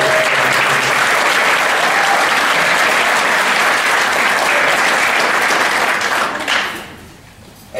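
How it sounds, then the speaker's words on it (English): Loud, sustained round of applause from a community leadership council audience, dense clapping holding steady for several seconds before tapering off quickly near the end. "Give him a round of applause."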